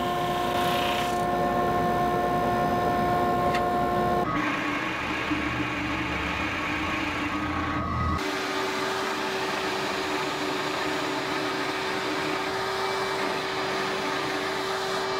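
A wood router hollows out a glued-up wooden bowl, giving a continuous loud high-pitched whine and rasping roar that shifts in tone a couple of times as the cut changes.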